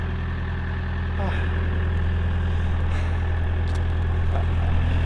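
A JCB's heavy diesel engine with a repaired exhaust pipe idles steadily up close, a deep even rumble with a brief hiss partway through.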